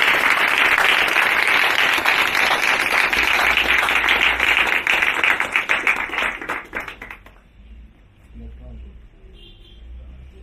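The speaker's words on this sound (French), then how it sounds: "Vos applaudissements." An audience at a school ceremony in Pointe-Noire, Congo, claps loudly and densely for several seconds, the applause breaking up and stopping, leaving a quiet room with low murmurs.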